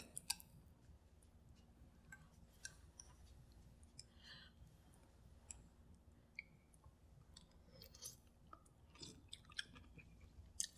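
Someone chews a mouthful of beef curry with long green beans that are still crunchy after simmering. The chewing is faint and close, with scattered small crunches and clicks over a quiet room and no talking.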